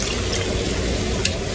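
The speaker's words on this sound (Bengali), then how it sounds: "এখন কিন্তু আমি পরিমাণ মতো ঝোল দিয়ে দিব।" Broth is poured into a pan of curry with rohu fish, giving a steady continuous rush of liquid filling the pan, close and fairly loud, with no talking.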